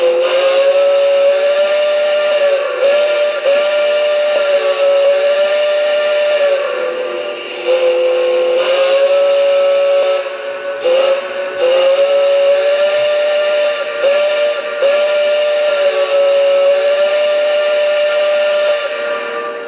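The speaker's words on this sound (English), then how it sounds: "Let's first take a listen to the whistle." Steam whistle of a Lionel Canadian National ten-wheeler model locomotive, a loud, sustained, slightly wavering chime tone that holds for many seconds with brief dips and restarts, alone with no talking.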